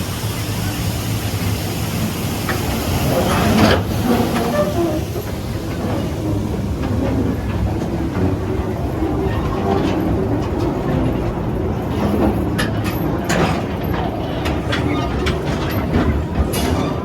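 A theme-park train ride at Knott's Berry Farm rumbles along with steady clickety-clack and loud rushing noise from the cars, a dense continuous roar with faint voices beneath.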